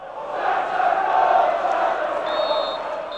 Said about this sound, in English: He's faced booing and chants of "sack the board."